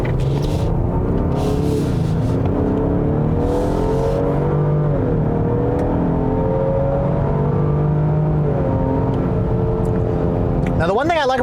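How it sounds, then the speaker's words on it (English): V6 engine of a 2021 Lincoln Aviator luxury three-row SUV revving up and pulling hard in Excite mode, a smooth rising drone with shifting harmonics, heard steadily from inside the cabin while someone talks over it. "Now, the one thing I like about this V6 is how smooth it is, how eager it is to rev."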